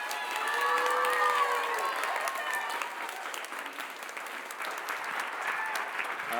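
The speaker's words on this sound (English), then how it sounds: "Give her a round of applause, please." Steady audience applause with some cheering for a presenter at a school event, dense and sustained throughout, with a few high voices calling out over the clapping.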